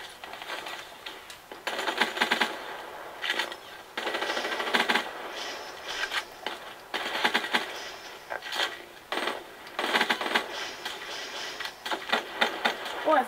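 Rapid automatic gunfire from a weapon in the video game Black Ops 3, bursts of fast repeated shots with short pauses between them over about thirteen seconds, fairly loud and steady, with no voices.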